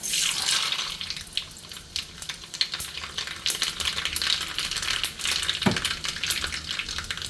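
Mustard seeds crackling and spluttering in hot oil for a tomato chutney tempering, a steady close sizzle with scattered sharp pops throughout, no talking.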